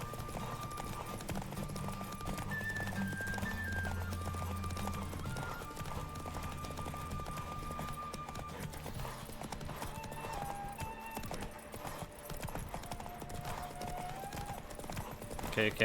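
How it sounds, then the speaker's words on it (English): Horse hooves clip-clop at a steady galloping rhythm in a derby race in The Witcher 3, with game music underneath, occasional whinnies, and someone talking over it. "The winner is Geralt of Rivia, riding Roach"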